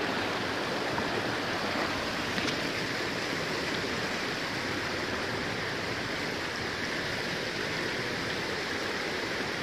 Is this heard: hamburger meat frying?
no